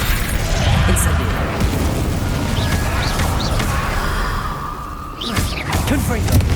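The Incendio fire spell being cast in the Hogwarts Legacy video game brings a loud, dense roar of flame and combat rumble with whooshing bursts, and character voices call out over the din.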